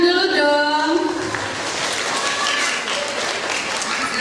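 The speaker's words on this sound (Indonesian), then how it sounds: "Tepuk tangan dulu dong." Audience applause at a marketing training session, a steady wash of clapping that continues evenly after a voice speaks over its opening moments.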